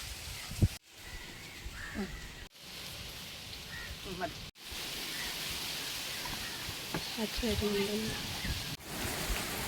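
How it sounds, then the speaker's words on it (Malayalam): Steady rain hisses down as a broad wash of noise during village fishing, with brief speech breaking through in places. "ചൂണ്ടയിടാൻ ഇറങ്ങിയപ്പം തന്നെ മഴയും വന്നു"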